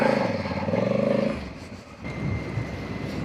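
A motorcycle's rear Kenda Big Block K748 tire slides under braking on a dirt slope, a loud rough engine-and-tire rumble that fades after a second and a half into gritty scraping and crunching.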